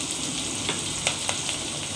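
Garlic and onion fry with cumin in oil in a pan, making a steady, close sizzle broken by a few brief clicks of stirring. No one speaks.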